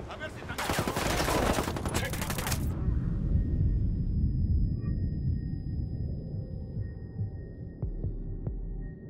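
Rapid automatic gunfire from the shooter game Ghost Recon Wildlands bursts loudly for a couple of seconds, then gives way to a low rumbling tail and a few faint distant pops near the end.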